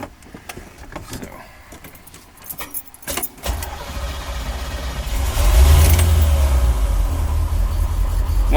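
A 1985 Chevrolet C4 Corvette engine cranks over after some clattering, catches, and settles into a loud, steady rumbling idle that swells briefly.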